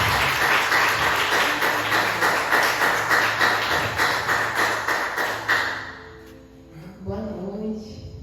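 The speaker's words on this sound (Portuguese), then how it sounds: "Vamos receber a irmã com uma forte salva de palmas para Jesus." Church congregation applauding loudly for a visiting sister during an evening service, dense steady clapping that fades out after about six seconds, followed by a voice speaking.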